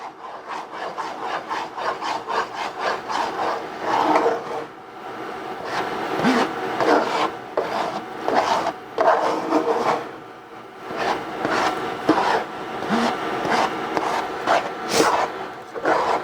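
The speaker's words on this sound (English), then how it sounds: "So I'm stirring in the protein powder." Protein powder being stirred into a sticky marshmallow mix for protein rice crispy treats: close, rhythmic rubbing and scraping strokes, repeated steadily with brief pauses and no talking.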